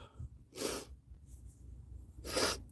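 Two sharp, breathy sneezes come about two seconds apart, close but fairly quiet, with faint breathing in between.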